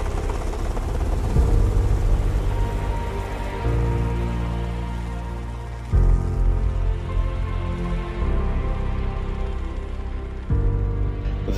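A helicopter flies near a Chinese drone, its rotor thrum loud, dense and steady like heavy rain, with abrupt shifts in tone as it passes close by.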